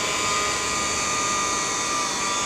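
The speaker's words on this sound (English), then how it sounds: "This is one of the original Electrolux canisters with the L-shaped power head" An Electrolux Epic 6500 canister vacuum with an L-shaped power head runs at a steady, loud whine with a broad airy roar and no change in pitch, heard up close the whole time.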